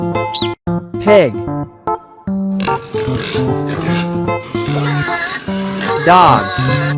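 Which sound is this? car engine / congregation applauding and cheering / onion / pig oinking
pig oinking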